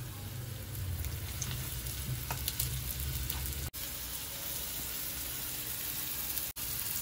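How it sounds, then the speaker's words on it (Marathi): Coated fish fries in oil on a hot tawa over a low flame, a steady close sizzle and crackle that holds evenly throughout, broken by two brief cuts, with no talking. "लो फ्लेमवर तळायला पाहिजे"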